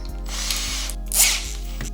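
A drill-powered nibbler cuts sheet metal with a loud, steady whirring drone and rapid ratcheting chatter, close and continuous with a brief surge midway.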